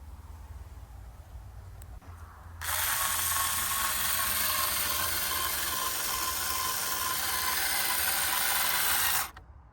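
A power driver sinks screws into gazebo timber in one long continuous whirring, grinding run of about seven seconds, loud and close, with no talk.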